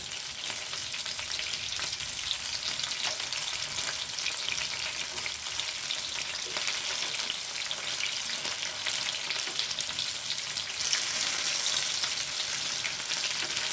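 Chicken kondattam frying in a pan, a dense, steady sizzle with crackling oil and occasional stirring scrapes, loud and close, continuous with no voices.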